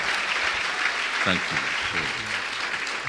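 An audience claps steadily through a dense ongoing round of applause at a spiritual talk, while a nearby voice speaks briefly over it.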